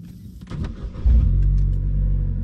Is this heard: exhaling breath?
no